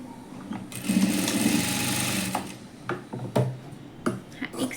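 A sewing machine stitches a folded blouse fabric strip on its reverse side, running in a steady continuous whir for a couple of seconds and then stopping into short bursts and clicks of starting and stopping.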